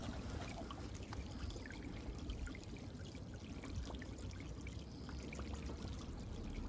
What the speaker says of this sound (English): Now the water's already started filtering from both the beds.